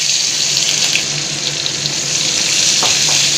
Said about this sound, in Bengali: তেল গরম হয়ে গেছে, কতগুলো গোটা জিরা দিয়ে দিলাম, অল্প করে পেঁয়াজ দিয়ে দিলাম